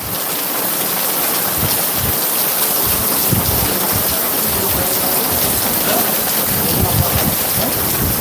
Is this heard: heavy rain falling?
yes